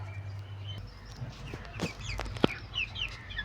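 Chickens clucking while being fed, a scatter of short clucks and calls over faint background noise, with one sharp louder cluck partway through and no talking.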